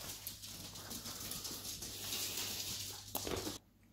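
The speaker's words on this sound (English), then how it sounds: "Still raining." Steady rain patters on a surface nearby, a continuous soft hiss with scattered drips, stopping abruptly near the end.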